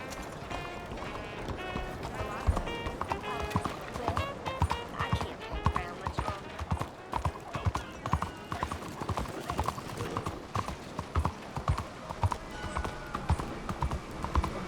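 Horse hooves clip-clopping steadily while riding in the video game Red Dead Redemption 2, a rapid rhythmic gallop of sharp thuds continuing for the whole stretch, loud and close amid game ambience and some talk.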